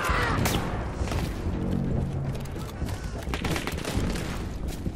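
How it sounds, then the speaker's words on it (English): Battlefield 1 gameplay fills with dense gunfire: overlapping rifle and machine-gun bursts with occasional booms, loud and continuous, while a player talks over the combat. "Stop shooting at me."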